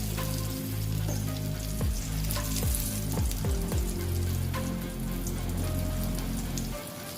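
Stuffed green chillies, Kathiyawadi bharela marcha style, fry in a pan with asafoetida as a spoon slowly turns them. A steady, close, loud sizzle runs throughout, with a few soft scraping knocks from the spoon.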